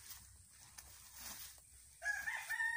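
A neighbour's stray rooster crows once, a rising-and-falling call that starts about two seconds in and rings out loud and fairly close over a quiet outdoor yard where soil is being prepared.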